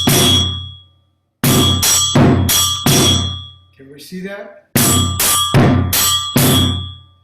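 A metal bell and a djembe drum struck together and alternately in a syncopated pattern, sharp ringing clangs with drum thumps in bursts of four, separated by a pause and a short spoken question.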